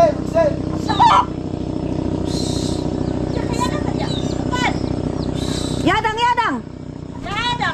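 A flock of noisy chickens calls loudly and close by, and a rooster's crow breaks through near the end, with people talking over the birds throughout.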